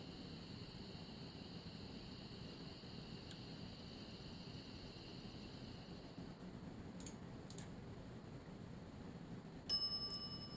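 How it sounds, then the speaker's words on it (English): A shop counter service bell in The Secret of Monkey Island gives a single bright ring near the end, after a long stretch of faint, quiet background hiss. "I step away from the counter for 2 seconds, and some idiot's already ringing that stupid bell"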